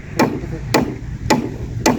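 Hammering during construction work: four sharp, evenly spaced strikes land about half a second apart, close and loud, over a low background hum.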